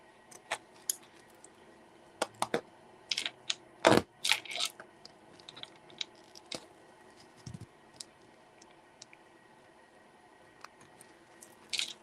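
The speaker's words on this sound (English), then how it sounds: "I just want to try to trim as close as I can" Scissors trim fabric close to glitter appliqué stitching in a magnetic embroidery hoop, giving scattered sharp snips and small clicks with quiet gaps between them.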